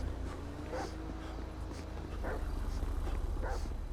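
Several short dog barks and yips from the video game GTA 5 ring out at intervals over a steady low rumble, sounding somewhat processed and mid-distance, as the dog runs fast.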